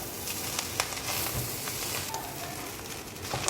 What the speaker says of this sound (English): We are still stirring so that it will mix very well and get the color very well.